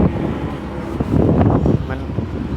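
Strong winter storm wind roars around a house as steady, heavy buffeting noise with louder gusts, while a voice speaks over it.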